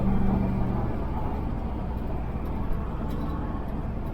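A car accelerates continuously, its engine a steady low rumble with road and cabin noise, heard from inside, even and unbroken.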